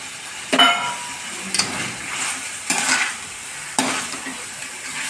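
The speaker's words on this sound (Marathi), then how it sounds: "गॅस फास्ट करून चांगलं मिक्स करून घ्यायचं आपल्याला।" Chicken pulao cooking in a pan over high heat, with a steady sizzle of frying under four separate sharp scraping strokes of a spoon stirring through the mix, close up.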